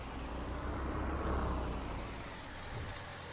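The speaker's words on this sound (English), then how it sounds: "This tractor sounds absolutely amazing." Tractor engine in the video game Farming Simulator 22, a steady low rumble with a broad noisy drone that swells slightly mid-clip and holds continuously, with no talk over it.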